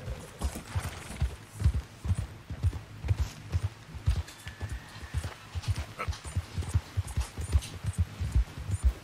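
Horse hooves clip-clop in a steady, brisk rhythm throughout a Red Dead Redemption 2 game scene, close and fairly loud, with no talk over the gait.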